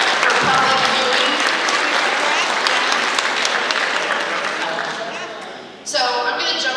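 Audience applause fills a dinner hall at the 2020 Leesburg Partnership awards banquet, a dense, loud wash of clapping that fades near the end before a fresh burst of cheering and voices rises.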